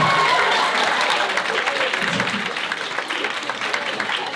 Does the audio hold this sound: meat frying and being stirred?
no